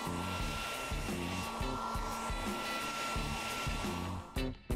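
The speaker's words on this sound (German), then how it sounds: "Ich style sie mit einem Föhn." A hair dryer blows continuously at close range while hair is styled, a loud steady whirring drone that cuts out briefly near the end.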